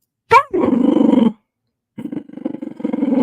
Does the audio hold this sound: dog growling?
yes